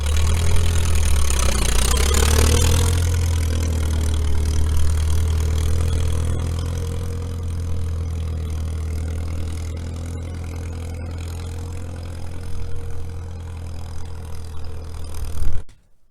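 A 73-year-old D6 9U Caterpillar dozer towing a trailer runs with a deep, steady diesel rumble that swells near the start, then holds an even low drone up close before cutting off at the end, with no talking.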